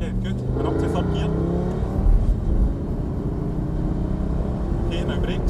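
A Lamborghini engine rumbles and pulls under acceleration, with a brief surge around an upshift into third gear, while a voice gives calm driving instructions over the steady engine drone.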